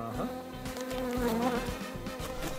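A fly buzzing in a Spider-Man game, a steady close drone with wavering pitch that continues throughout without any talk.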